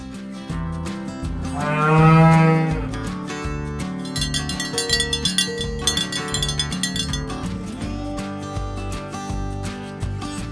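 Cattle on an Australian farm, one loud, drawn-out moo rising and falling near the start, then a busy background of further lowing and clinking over steady rhythmic music.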